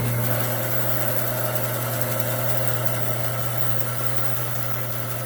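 A repaired bandsaw with a newly made blade guide casting runs steadily on its own, a continuous machine hum with strong low tonal drone and vibration throughout.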